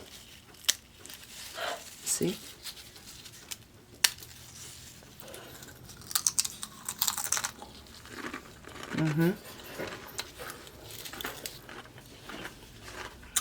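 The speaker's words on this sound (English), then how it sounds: "I want you to hear that crunch." Homemade baked pita chips crunch and crackle close up in a series of crisp, irregular bursts, with a person speaking briefly over them.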